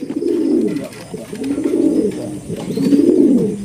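Pigeons at a pigeon market coo in low, rolling, repeated phrases, close and prominent, with faint background noise behind them.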